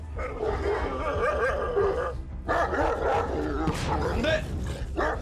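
Large dogs fight with snarling, growling and sharp barks in a continuous loud tussle, while people talk and shout over the commotion.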